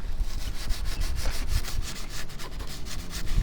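Rust being rubbed off the metal of a 2001 Gas Gas dirt bike with an abrasive pad instead of steel wool, a steady close scrubbing with quick repeated back-and-forth strokes and no talk.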